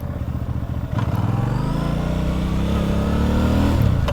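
A 2024 Benda Chinchilla 500 motorcycle engine on a test ride rumbles close and loud, pulsing and then revving up steadily with a jerky throttle, and its pitch drops back near the end.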